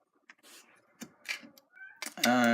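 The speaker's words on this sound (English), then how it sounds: "And my cat is outside my door." A cat meows from just outside a closed door, with several drawn-out, whiny calls that grow louder and end in a strong, clear meow.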